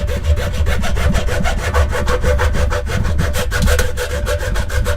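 A battery casing has its top cut off with a saw, giving a rapid, steady rasping stroke rhythm at close range, with no voices.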